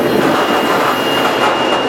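A train running on railroad track through open Wyoming country, a steady, loud broadband rumble and rail roar filling the whole stretch without a break or voices.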